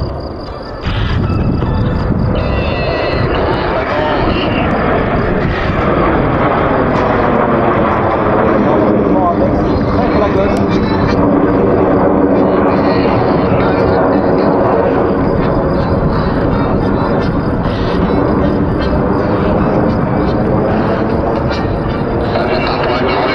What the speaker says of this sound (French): Les avions maintiennent leur position et cette précision change de formation en gérant les gaz